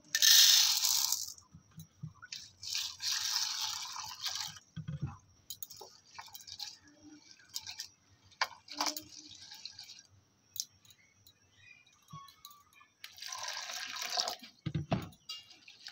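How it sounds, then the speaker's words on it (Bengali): Sago pearls are washed by hand in a bowl of water, giving sporadic splashes, rattling grains and drips in bursts separated by quiet pauses, close and fairly soft. "সাবুটা ভালো করে ধুয়ে নেব।"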